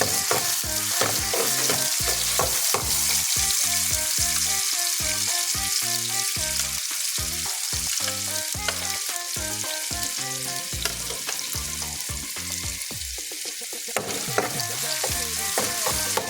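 Ginger sizzles in a pan of hot oil as the base for squid adobo, a steady loud frying hiss broken by regular scraping strokes of a utensil.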